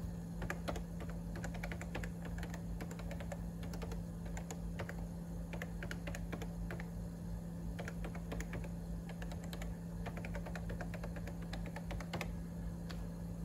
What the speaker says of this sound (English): So let's try some keystrokes.